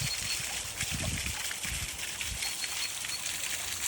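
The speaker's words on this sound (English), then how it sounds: "hearing the beautiful sound of the rushing water" Rushing water in a Japanese Sakura garden, a continuous broad splashing flow heard close and steady throughout, with faint background hiss and no talking.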